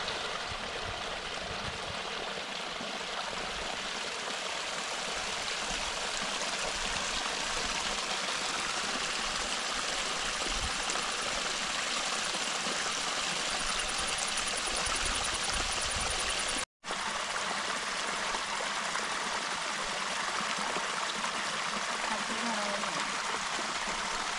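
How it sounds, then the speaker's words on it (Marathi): Light rain falls steadily, a soft continuous hiss of drizzle with no pauses except one brief dropout near the end. "बारीक बारीक असा डोक्यात मुरणारा असा हा पाऊस पडतोयच आहे"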